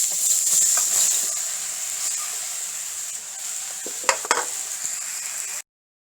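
Chopped bottle gourd with turmeric fried in oil with chilli and white cumin, a loud, steady hissing sizzle broken by a few scraping knocks of the stirring spoon before stopping abruptly.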